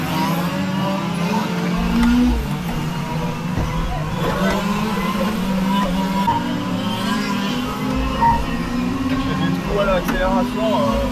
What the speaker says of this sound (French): Voilà, l'accélération